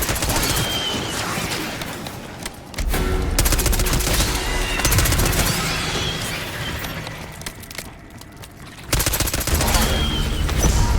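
Dense rapid gunfire in Black Ops 6 Zombies, near and loud, with sustained automatic bursts that briefly pause and then resume, and no talk over it.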